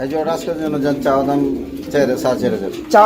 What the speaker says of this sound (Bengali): খুবই চমৎকার ইউলো কালার মধ্যে একজোড়া কি রয়েছে মাল্টেস কবুতরের জোড়া রয়েছে